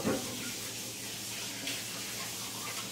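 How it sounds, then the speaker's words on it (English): Hands are washed under a running tap, with steady splashing water close by throughout a short stretch and no talk. "let me wash my hand."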